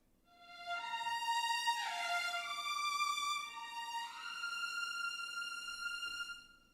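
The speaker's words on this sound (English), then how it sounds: "Adagietto violin 1 legato sounds like this" A smooth sustained violin line from the Tokyo Scoring Strings sample library (Adagietto violin 1 legato) glides between a few long notes, bright and resonant with a reverberant tail, played alone.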